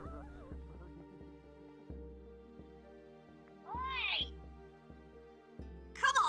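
A bird in the VRChat game gives two rising, nasal honks, one near the middle and a louder one at the end, amid ongoing talk and voice-chat chatter.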